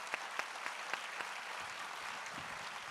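Applause from the audience thanking the speakers after a leadership talk, with a few distinct sharp claps at the start that blend into a continuous even wash of clapping.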